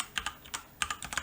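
Typing on a computer keyboard close up: a quick, uneven run of crisp key clicks in small clusters, fairly quiet and with no voices.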